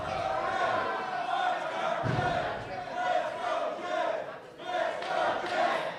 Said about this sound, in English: You can hear them chanting, "Let's go, Jed! Let's go, Jed!"